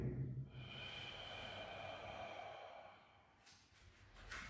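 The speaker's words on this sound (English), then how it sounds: "And we'll breathe in." A slow, deep inhale and exhale during a hatha yoga class, soft and close, with a long steady breath that fades out, followed by faint rustling.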